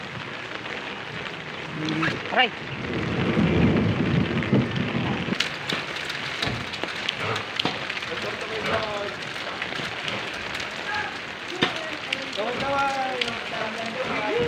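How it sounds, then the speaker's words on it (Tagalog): Steady rain falls outdoors while people walk along a work area, a constant close hiss of drops throughout with voices talking and calling out over it. "Umuulan."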